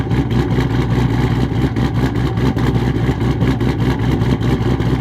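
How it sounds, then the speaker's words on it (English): A 2020+ Ford GT500 doing a burnout, its engine roaring loud and continuous at high revs with a rough, pulsing texture throughout, close and with no voices. "We're going to listen to the burnout."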